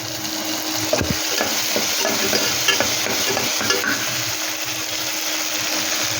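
Tomatoes sautéing in a pressure cooker for pasta, a loud dense hiss of frying with intermittent scraping from stirring against the pot, steady throughout and close.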